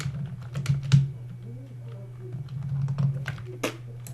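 Someone types on a worn, beat-up computer keyboard while playing Minecraft. Sparse, irregular clicks and clacks sound close to the mic over a constant low hum, with no talking.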